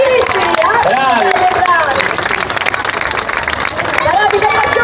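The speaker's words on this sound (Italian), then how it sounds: "Facciamo un applauso, bravissimi!" Outdoor crowd at a nighttime festival concert in Guidonia claps and cheers, a dense sustained wash of applause under an announcer's voice and crowd chatter.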